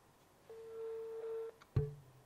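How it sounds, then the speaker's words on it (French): A telephone ringing tone sounds during a live radio call, one steady electronic tone lasting about a second, fairly faint, followed by a short click and thump as the line connects. "Et là, ça sonne."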